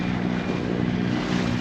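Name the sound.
wind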